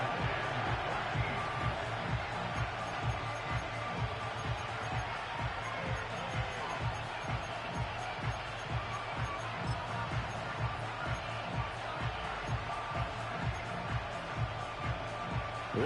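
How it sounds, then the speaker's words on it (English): Stadium crowd noise from the Madden 25 football video game during a Buccaneers wildcard playoff game against the Falcons: a dense, steady roar that fills the whole stretch at an even, loud level, with no clear breaks. "This crowd turning up the decibel level."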